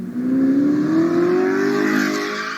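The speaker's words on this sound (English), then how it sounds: "If Trae wasn't on the court, he was whipping the Audi." A 600-horsepower matte black Audi accelerates hard, its engine note climbing in one loud, close, smooth rising roar over about two seconds.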